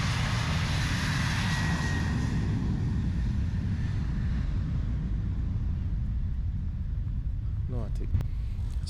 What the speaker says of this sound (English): I'm waiting on the plane, and this one now is departing.